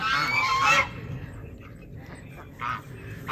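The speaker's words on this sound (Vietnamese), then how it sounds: "con ngỗng mà nó ồn ghê" A goose on a small backyard farm lets out a loud, close honk, then a quieter second call after a pause, over a dull background rumble.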